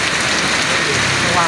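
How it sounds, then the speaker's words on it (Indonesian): Heavy rain pours down at the Genuk market, a loud, dense, unbroken hiss of drops striking surfaces close by with no pauses. "wah, malah hujan ini."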